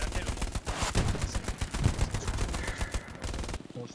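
Rapid automatic gunfire from a first-person shooter set in World War II, Hell Let Loose, crackles through a few seconds as loud, dense bursts of shots, then cuts off abruptly near the end.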